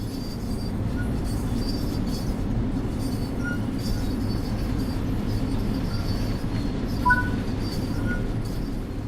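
LIRR M7 electric commuter train in the Train Sim World 4 game, a continuous low rumble of the train running with faint wheel and rail squeals scattered through.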